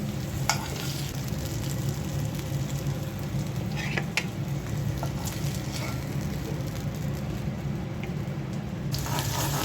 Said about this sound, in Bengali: তরকারি রান্নার জন্য পেঁয়াজটা ভেজে নিচ্ছি